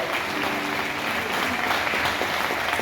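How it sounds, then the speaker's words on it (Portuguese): A church congregation applauding in praise during a service, a dense, continuous wash of clapping from many people that stays loud and even throughout, with faint voices mixed underneath. "Aplaude ao Senhor"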